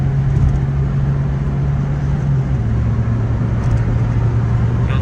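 A tuned Citroen C-Elysee 1.6 HDi diesel car, about 140 hp, under acceleration. It gives a loud, continuous engine drone with a low steady hum that holds through the whole five seconds.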